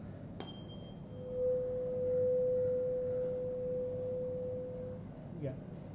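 A Helmholtz resonator in a physics experiment rings a pure, steady tone at its maximum resonance, holding level for several seconds before cutting off, close and clear over a faint background hum with a few small clicks.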